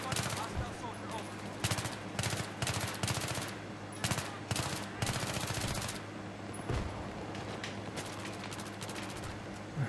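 Rapid automatic gunfire from the video game Battlefield 3 rattles in dense bursts almost continuously, loud and close, with brief gaps between volleys.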